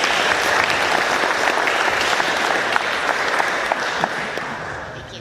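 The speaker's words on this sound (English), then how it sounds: "Please give him a big round of applause." Audience at a weekly Rotary Club meeting in Georgetown applauds steadily for about five seconds, a dense, even wash of clapping from many hands that slowly tapers off near the end, with no talk over it.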